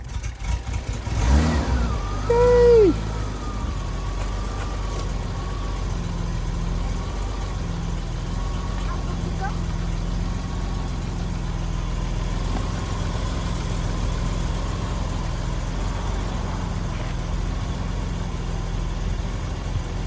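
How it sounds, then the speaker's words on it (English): A BMW E30 325i engine cranking and catching after sitting for three years, a brief loud rev as it fires, then settling into a steady low idle that runs on evenly to the end. "let's see if we can start this engine after 3 years"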